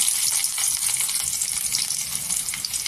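Mustard seeds and garlic frying in a spoonful of hot oil for a drumstick masala curry, a constant bright close sizzle with faint crackles, steady throughout.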